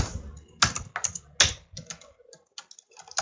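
Quiet, close clicking of keys on a computer keyboard as JavaScript code is written, irregular taps and short clusters with small gaps.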